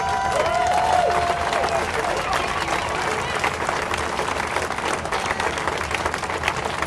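An audience applauding steadily throughout at a public reading, dense continuous clapping with crowd murmur, loud and close, while a voice speaks faintly over it near the start.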